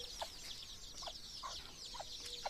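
Desi chickens on a small poultry farm clucking in short repeated bursts at moderate distance, over a constant high chirring of insects or birds in the background.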